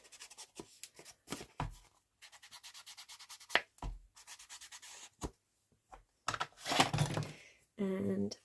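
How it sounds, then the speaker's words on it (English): Card edges rubbed by hand to distress them for a junk journal page, giving a run of soft, close scratchy strokes in short bursts with pauses between them. "I'm just going to go around the edges just to take away that cardboardy look"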